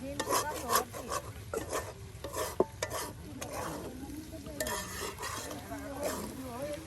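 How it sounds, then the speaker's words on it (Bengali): Potatoes and meat frying in a pan over a cooking fire, giving a steady sizzle with repeated scraping and stirring strokes and occasional utensil knocks, somewhat distant and moderately loud. "আপনার এই যে আলু এবং মাংস ভেজে নেওয়া হচ্ছে"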